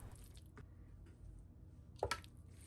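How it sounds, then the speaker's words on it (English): A rice paddle folds dry ingredients into wet batter, giving faint, soft squishing and scraping sounds in a quiet kitchen, with a brief sharper wet squish near the end. "I'm just going to add in my dry ingredients to my wet ingredients."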